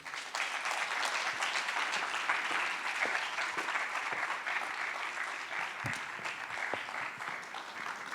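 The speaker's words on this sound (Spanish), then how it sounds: "Un aplauso para ellos, por favor." Sustained applause from a theatre audience honouring directors at the Teatro Nacional, dense steady clapping filling the room throughout with no voices over it.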